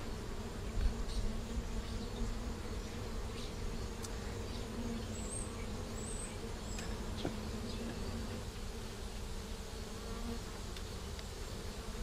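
Honey bees buzz around hive frames where they are building comb, a dense, steady drone of many insects close by with occasional nearer passes, no voices.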